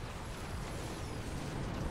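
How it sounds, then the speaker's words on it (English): A distant explosion in the video game Xenoblade Chronicles 2 rumbles as a steady, dense roar with heavy low-end, sustained through the whole moment with no voices. "An explosion? A battle, perhaps."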